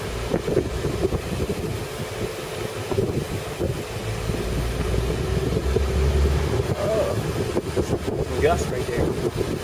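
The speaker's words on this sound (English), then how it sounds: "Gust right there." Wind buffets the microphone in rough, rumbling gusts that build toward the middle, recorded from a convertible car chasing an RC quadcopter drone, with a steady mechanical drone and some talk underneath.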